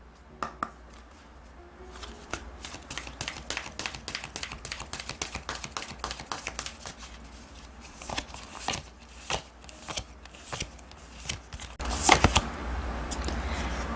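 Oracle cards are shuffled for a tarot reading, giving close, rapid papery riffles and flutters in dense bursts with brief pauses between them.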